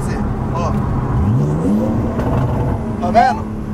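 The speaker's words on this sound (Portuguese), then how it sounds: "eu só quero que vocês ouçam o barulho que o carro vai fazer" A Porsche 911 Carrera engine rises in a rev and settles back to a growl with a sharp blip near the end, heard close under a man's speech.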